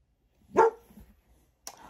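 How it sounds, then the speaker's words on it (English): A dog gives one sharp, fairly close bark, then a short quieter yip a moment later, in an otherwise quiet room. "Had a dog distraction."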